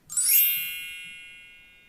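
A single bright bell-like ding rings out clearly, then fades slowly into silence.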